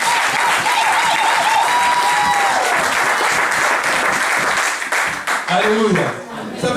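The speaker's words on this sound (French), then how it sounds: "Acclamez pour le Seigneur si tu crois." A church congregation applauds and cheers for the Lord in loud, sustained clapping that fills the room, with voices calling out over it and the crowd noise tapering toward the end.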